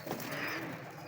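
A Prince Kamgar pigeon gives a short, soft coo close at hand, a brief throaty murmur with no talking.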